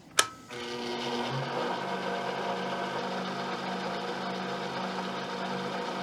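A machine tool on automatic feed, cutting Corvair cylinder heads, starts with a sharp clack, then settles into a steady, continuous whirring drone that hums on evenly at close range.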